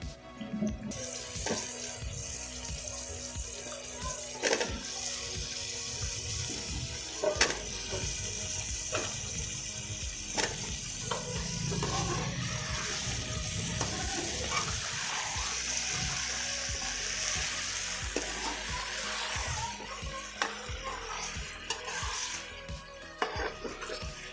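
Peas and potatoes for a vegetable pulao fry in a pan with turmeric, giving a soft, continuous sizzle and hiss broken by occasional clinks and stirring knocks, fairly quiet throughout.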